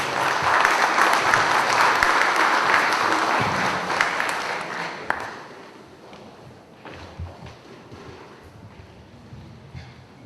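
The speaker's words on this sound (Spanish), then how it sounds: "Recibamos con un fuerte aplauso" A crowd applauds loudly for about five seconds at a civil procedure law lecture, then the clapping fades to scattered claps and room noise.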